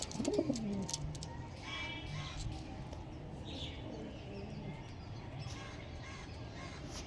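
A Punjabi pigeon gives a single low, clear coo near the start, followed by faint bird calls over a steady background murmur.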